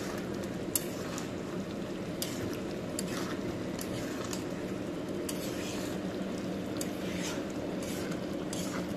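Dried chepa shutki fish with jackfruit seeds frying in a pan, a steady dense sizzle with scattered faint scraping ticks from stirring, close and continuous.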